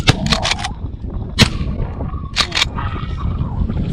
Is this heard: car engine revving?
no